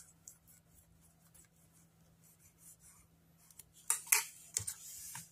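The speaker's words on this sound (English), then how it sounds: "I'm going to burnish this" A folded crease on a paper gift box being burnished, heard as quiet, close rubbing and scraping that turns into a few sharper, louder strokes near the end.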